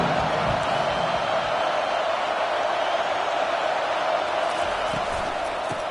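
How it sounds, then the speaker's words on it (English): Stadium crowd noise in the NCAA 25 college football video game, Boise State against Oregon, a steady broad roar swelling on third down that holds loud and continuous throughout without clear breaks. "Decibels rising as the crowd gets behind this defense on 3rd down."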